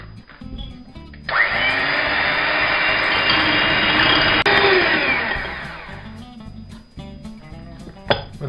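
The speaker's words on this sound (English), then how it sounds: "you're going to whisk them up until you bring your whisk out and the egg white follows you in peaks" An electric whisk whips egg whites to peaks for cherry and coconut macaroons, a loud, steady whirring drone that runs for several seconds before winding down, with a clink of the bowl at the end.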